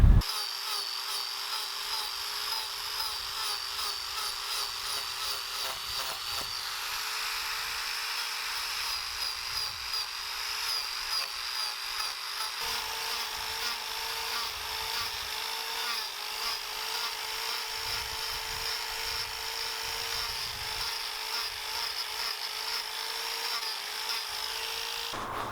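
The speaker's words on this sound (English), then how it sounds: "So now I've got the mini carver on it. It's got 2 blades on there." Mini carver power tool fitted with two blades hollowing out wood: a continuous high whining grind with a steady motor drone, loud and close, varying slightly as the blades bite, no talk.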